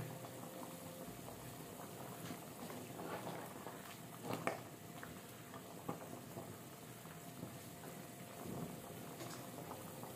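Corn boiling in a pot on a cold day, with a continuous bubbling, gurgling churn of water at low volume and occasional louder pops.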